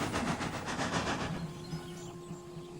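A cartoon steam engine chuffs away in rhythmic, hissing puffs that soon fade, leaving a soft rolling rumble and a faint whistle-like tone.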